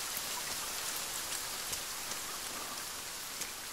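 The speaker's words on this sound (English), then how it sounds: "It's raining harder." Heavy rain falls in a forest with a dense, steady hiss, and scattered louder drops tick against nearby surfaces throughout.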